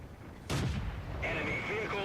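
A single tank cannon shot in the World of Tanks video game, a sudden loud blast with a booming tail, followed by a higher sustained mechanical tone.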